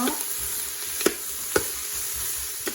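Vegetables for a vegetable soup sauté in a pan with a soft, steady sizzle, broken by three or four sharp scrapes and knocks as a spoon stirs them, with no talk.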